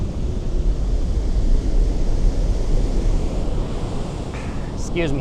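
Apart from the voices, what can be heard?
ocean waves breaking on a beach in Brazil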